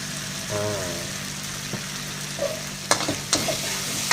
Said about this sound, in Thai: ผัดกระเทียว แล้วก็ตามด้วยน้ำตาลนะครับ